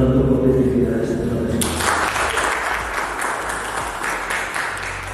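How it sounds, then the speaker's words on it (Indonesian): A large crowd applauds steadily and loudly throughout, a dense wash of clapping following a brief moment of voices at the start. "Kita beri tepuk tangan untuk Kopit Jelas."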